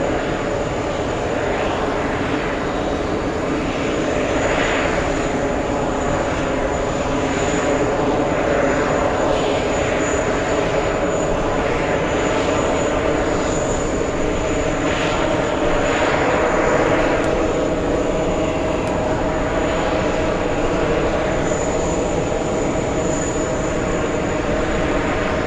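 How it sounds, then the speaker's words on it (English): A Chinook helicopter flies past an airport, its steady rotor and engine roar holding loud and continuous with a pulsing beat throughout. "That's a Chinook."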